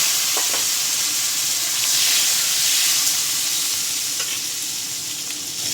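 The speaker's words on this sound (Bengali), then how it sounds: "এই তেলের মধ্যে সেদ্ধ করে রাখা ওল আর আলুটা ভেজে নেব।" Boiled elephant foot yam and potato pieces fry in hot oil with a dense, continuous sizzle, close and loud, swelling slightly midway.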